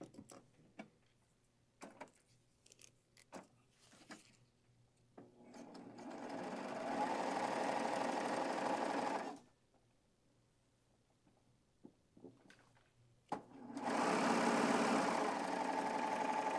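A sewing machine stitches a test seam on fabric, starting after a few clicks and taps with a steady whirring run of about three seconds, a pause, then a second steady burst, close and fairly quiet.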